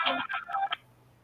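A phone emits a quick series of electronic tone beeps, three or four short bursts close together, followed by near silence.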